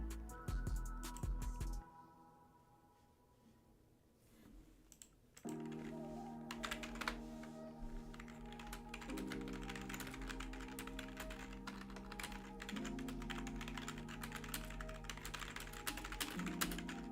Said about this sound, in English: I know my typing's loud